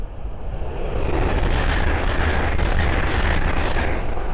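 A Hull Trains Class 800 passes at speed on the East Coast Main Line at Great Wymondley, a loud sustained rushing roar and rumble that builds after the first second and stays heavy throughout, no voices.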